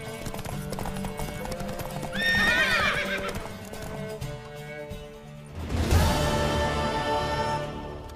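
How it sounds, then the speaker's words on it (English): Hooves clip-clop rhythmically in a quick gallop in The Witcher 3, with a horse whinnying sharply midway and again later over a low, music-like background. "Worthy of the best horse. The mare is yours."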